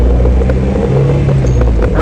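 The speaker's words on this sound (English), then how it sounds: "I'm in first gear. I let the car warm up." A warmed-up Honda Civic HX, swapped from automatic to a manual transmission, runs in first gear with a loud, steady low engine rumble and slight roughness throughout.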